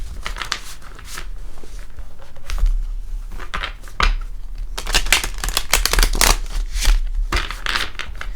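Tarot cards are shuffled in quick bursts of riffling and flicking, close up, with short pauses between rounds and no voices.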